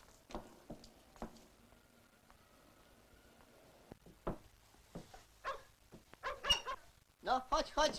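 A dog gives several short barks and yips at close range, mixed with people talking and footsteps in a domestic setting, with louder bursts near the end.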